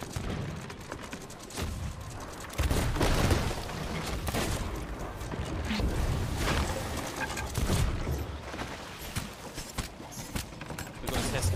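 Repeated gunfire in the pirate game Sea of Thieves, loud shots and booms scattered through a busy battle mix at close range, with a constant wash of game noise and voices talking over it.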